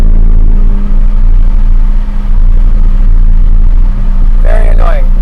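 Wind buffeting roars through a new Toyota Supra cabin at speed with both windows down, a loud, constant low-frequency throb and rumble that pulses heavily, with a brief voice near the end.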